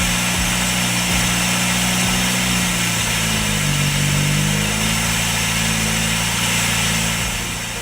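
A Pontiac Fiero engine idles steadily at close range, a continuous low mechanical hum with a slight dip in pitch midway and no voices.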